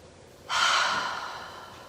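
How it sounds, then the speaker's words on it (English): A single huge, forceful inhale through the nose during vinyasa yoga breathing, close and loud, rising quickly and then fading over about a second and a half. "Get another huge inhale."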